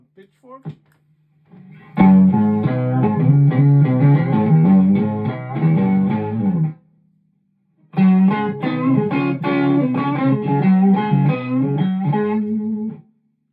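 Electric guitar played through a Pitchfork pitch-shifter pedal on a pedalboard, without distortion, heard as two loud sustained melodic passages with a brief silent gap between them.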